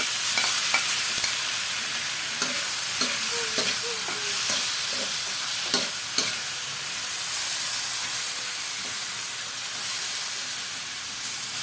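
Pork fries in a pan, a steady hiss of sizzling with scattered clinks and scrapes of stirring throughout, close and moderately loud, with no talking.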